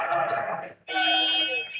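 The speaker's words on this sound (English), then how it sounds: "Is Zerimana there for the buzzer?" A basketball buzzer sounds during a women's playoff game, a loud electronic tone that breaks briefly and then sounds again.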